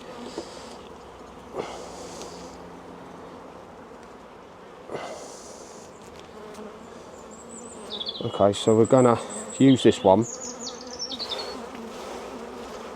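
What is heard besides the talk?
honeybees buzzing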